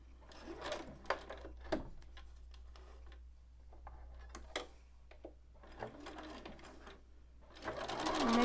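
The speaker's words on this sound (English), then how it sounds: "I'm just stitching right on the line" Sewing machine stitching a quilted fall-leaves table runner along a marked line, running in short bursts of rapid mechanical ticking with pauses between, close and fairly quiet, swelling into a steadier run near the end.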